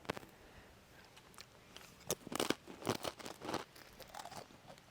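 A cracker topped with apple jam from a Russian military ration is bitten and chewed up close, giving several dry, crisp crunches in quick bursts that grow louder toward the middle.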